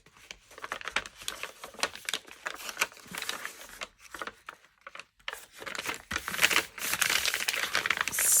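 Tape is peeled away from paper during a junk-mail craft project, a long stretch of soft, uneven crinkling and tearing rustles that swells and fades, close and fairly quiet.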